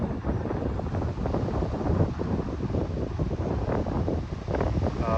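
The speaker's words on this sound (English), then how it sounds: "Oh, it's so windy." Strong wind blows outdoors by the ocean, buffeting the microphone with a loud, continuous roar that gusts and surges unevenly throughout, with no voices.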